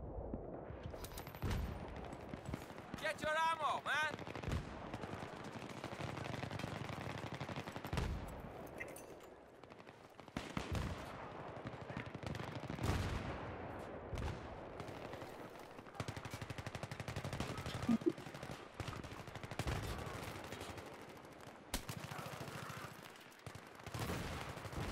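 Automatic weapon fire in the multiplayer shooter Battlefield 3 on the Noshahr Canals map comes in repeated rapid bursts and single shots, close and loud, with distant battle noise between volleys.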